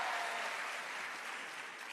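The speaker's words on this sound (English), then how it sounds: "Please give her a round of applause as well." An audience gives a round of applause at a teachers' engagement session, with steady, moderately faint clapping that fades slightly over two seconds.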